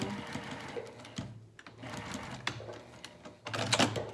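Sewing machine back stitching a pocket on pajama pants, a quiet close whir in short bursts with brief pauses and light clicks, ending in a louder run.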